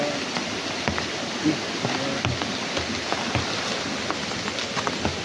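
Steady rain falls outdoors, a continuous broadband hiss with scattered drips and taps, moderately loud with faint voices beneath.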